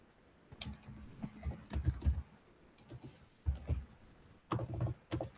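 Keys clatter on a computer keyboard in irregular bursts of quick, close clicks and taps with short pauses between, no voices over them.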